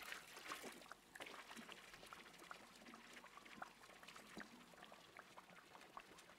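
Liquid pours and trickles steadily in a beer-brewing simulator game, a soft continuous splashing stream heard fairly quietly over the whole stretch with no talking.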